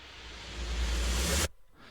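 A full-range swell blended from snare, cymbal and kick samples, including a reversed kick, builds over about a second and a half into a dense, loud roar, then cuts off abruptly, leaving a faint tail.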